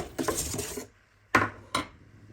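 A few light metallic clinks and scrapes of a spoon and baking tray being handled close by, in short bursts separated by brief quiet.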